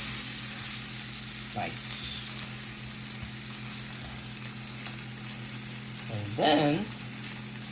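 A salmon fillet sears in a hot pan with a steady, close sizzle and crackle throughout, while a person speaks briefly over it.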